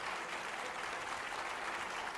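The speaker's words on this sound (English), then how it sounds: "Can I have everybody give one more big round of applause for our author?" An audience applauds an author at an afternoon book event, a steady, dense wash of clapping that holds evenly for about two seconds at moderate distance.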